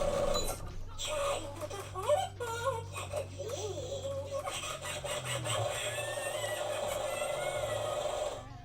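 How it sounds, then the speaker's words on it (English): A singing sewing skeleton toy plays a tinny electronic voice and melody, close and moderately loud, with warbling pitched tones running through most of the stretch. "It's my singing sewing skeleton."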